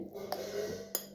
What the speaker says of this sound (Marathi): रवा आता आपण मोठ्या भांड्यामध्ये